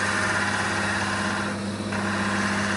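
A barrel trimmer fitted with a sleeve made from an old pen blank trims a pen blank. A steady, close motor drone hums throughout, with a brief change in tone midway.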